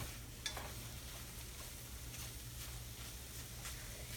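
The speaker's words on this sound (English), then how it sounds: "So I'm just gonna keep kind of stirring them around" Scrambled eggs being stirred in a frying pan, a faint quiet sizzle with a steady low hum and occasional soft scraping touches of the utensil.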